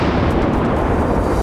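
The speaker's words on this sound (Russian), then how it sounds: "грохот артиллерии и выстрелы из минометов возвращают в реальность" An artillery gun fires on a wooded front line, giving one loud, close, heavy blast that fills the whole short moment with a dense rumbling roar and no voices.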